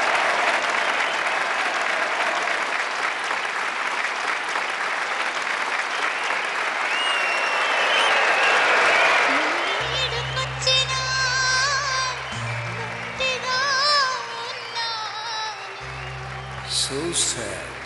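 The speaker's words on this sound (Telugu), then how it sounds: "గట్టిగా చప్పట్లతోనే వెల్కమ్" A crowd at a college dance performance claps loudly and steadily to welcome a dancer, a dense sustained applause that fades after about nine seconds as music with sustained tones takes over.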